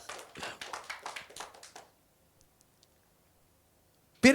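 A congregation at a Sunday church service claps for about two seconds, the applause quickly thinning and stopping. A near-silent pause follows, then a sharp loud knock at the very end.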